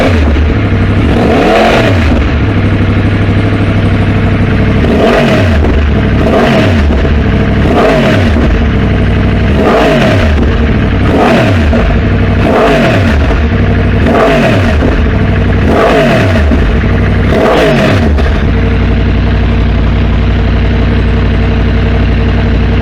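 A 2023 Yamaha MT-10 with a Leovince decat midpipe, running rich, revs hard in about eight loud, evenly spaced bursts. Each rev spikes and falls back to a steady idle, with sharp backfire cracks on the overrun.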